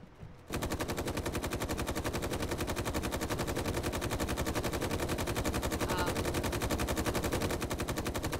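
Sustained automatic gunfire in the video game Space Engineers, a rapid, steady stream of shots that starts abruptly after a brief quiet moment and rattles on loudly without pause to the end.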